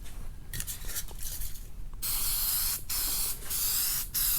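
Medium gray automotive paint sprayed onto masked sun visors in short hissing bursts, then longer steady passes with brief pauses between them, close and loud.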